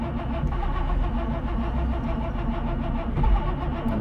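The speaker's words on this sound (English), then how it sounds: "Give it a little blip of throttle." A 1955 Mercedes 300SL Gullwing engine runs with a dense, steady low rumble, close and fairly loud, with a slight swell near the end from a brief throttle blip.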